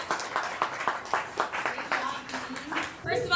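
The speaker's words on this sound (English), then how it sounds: "All right, round of applause." Applause from a room of participants at a city customer-service hackathon, a scattered, uneven patter of hand claps that carries along under ongoing talk and then thins out at the end.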